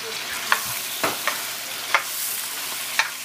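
Sausage for shawarma fries in a hot pan, a soft steady sizzle broken by several sharp scrapes and clacks of stirring.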